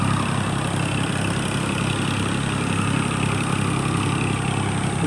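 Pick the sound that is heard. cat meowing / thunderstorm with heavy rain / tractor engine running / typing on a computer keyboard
tractor engine running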